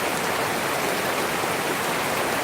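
Steady late-night rain falls outside an open window, a dense even hiss of drops that holds at the same level throughout, with no voices.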